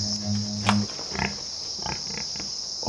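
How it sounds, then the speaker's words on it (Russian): A low, short grunt from a wild boar below sounds early on, near the Fukushima nuclear power plant, followed by faint rustling amid a steady high insect-like hiss. "внизу хрюкал кабан"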